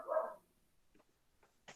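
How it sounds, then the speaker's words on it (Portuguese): A small female dog gives one clear bark indoors, followed by a few faint, short yips after it. "Nossa, minha cachorrinha latindo aqui, enche o saco."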